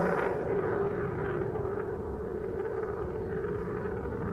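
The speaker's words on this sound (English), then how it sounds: "Now watch as he rolls the aircraft down." A jet aircraft rolls during an air show display, its engine roar a steady, broad, distant rumble that holds at constant loudness throughout without speech.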